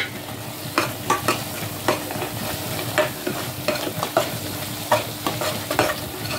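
Prawn gravy frying in a pan with ground fennel and cumin, a steady close sizzle broken by repeated scraping stirs at an uneven rhythm, with no voices.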